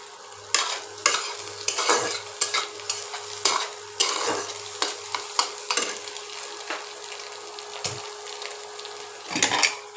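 Egg bhujia fries in a pan, a loud close sizzle broken by a series of rhythmic spatula scrapes and stirs against the pan.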